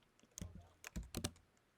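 Computer keyboard typing, a short burst of a few close, crisp key clicks in quick succession, quiet and with no talking.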